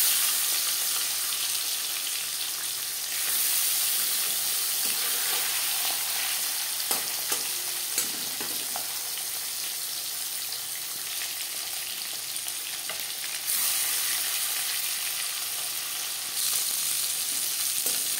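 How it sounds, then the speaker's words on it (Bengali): Marinated chela fish frying in hot refined oil, a steady close sizzle and crackle running throughout with occasional stirring scrapes and small bursts, no voices. "5 চামচ রিফাইন্ড অয়েল গরম করে নিয়েছি। এবার দিয়ে দেব ম্যারিনেট করে রাখা মাছ।"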